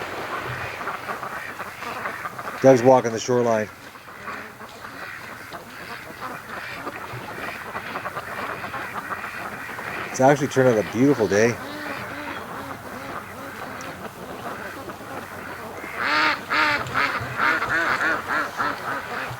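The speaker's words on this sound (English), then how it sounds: "he's got them all the ducks worked up now" Ducks along a creek shoreline burst into loud quacking in several bouts, with someone talking over the calls in between.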